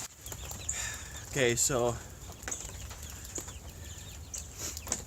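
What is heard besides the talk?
chickens squawking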